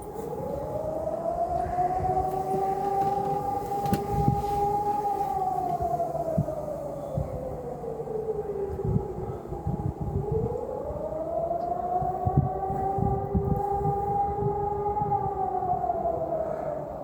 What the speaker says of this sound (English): You can hear lots of sirens. it says it's as part of an alarm system exercise.